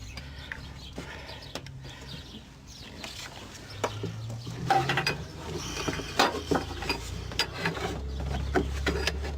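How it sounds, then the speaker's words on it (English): A 15 mm box-end wrench turns the idler pulley on a 2007 Saturn Vue Hybrid to release the drive belt, giving clicking and scraping metal sounds and brief clunks in a steady, close mechanical rhythm with no talk. "we've taken the 15 millimeter box-in wrench and we've rotated the idler pulley"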